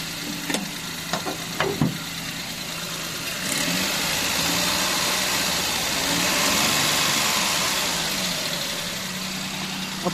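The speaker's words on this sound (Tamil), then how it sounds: "இப்போ இன்ஜின் ரூமையும் இன்ஜின் சவுண்டையும் கேட்டுடலாங்க" A 2010 Maruti Alto LXi with an 800 cc petrol engine idles steadily close by with a constant hum, with a few brief knocks and clicks early on as the idle continues.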